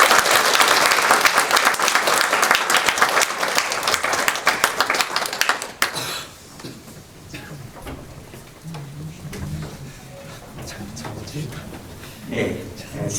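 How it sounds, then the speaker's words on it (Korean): Audience applause at a church presbytery retirement ceremony for pastors and elders, loud dense clapping for about six seconds, then stopping abruptly and giving way to quiet room noise with faint murmurs. "스스로 같이 인사할 때 큰 경의의 박수를 해주시길 바랍니다."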